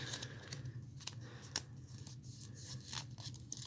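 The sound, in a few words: paper being folded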